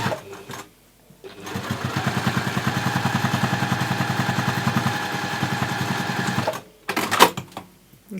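Sewing machine running steadily for several seconds while top stitching a fabric nesting gift basket, a fast even needle rattle that starts and stops with brief pauses and small handling clicks at either end.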